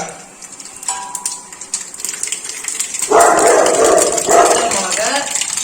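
Mustard seeds begin crackling and spluttering in hot oil for tempering pulissery, a loud, dense sizzle with rapid pops close up, preceded by quieter kitchen clinks.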